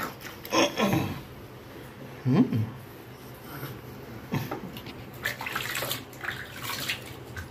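Water is poured and splashes in bursts while a baby is washed at bath time, with a few separate splashes and gentle trickling between them, close by and moderately loud.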